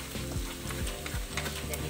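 Black pepper and ginger frying in a pan, a steady close sizzle with faint crackles running throughout without talk.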